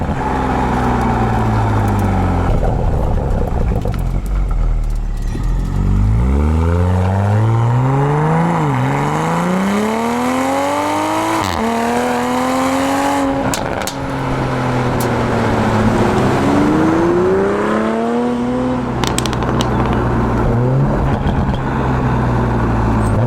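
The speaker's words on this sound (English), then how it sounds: "What really is cool about this car is just how good it sounds." A 2020 Toyota Supra engine revs repeatedly, rising and falling in pitch through several sweeping blips and pulls, loud and close with no talking over it.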